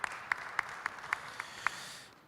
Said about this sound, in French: On l'applaudit également.